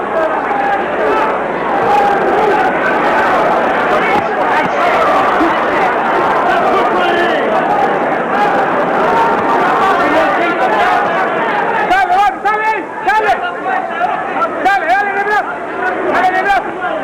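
A boxing crowd at a Larry Holmes heavyweight bout roars and chatters in a steady, dense wash of voices, loud and close throughout, with sharper individual shouts rising near the end.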